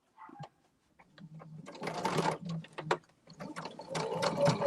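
Home sewing machine stitching through a bulky quilt block, running in quick bursts of mechanical whirring and clacking with brief pauses, close and moderately loud.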